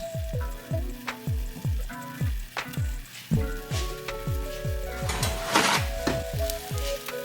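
Butter sizzling and melting in a pan, a crackling hiss set against a rhythmic run of low thumps and music, with a brief burst of spattering near the end.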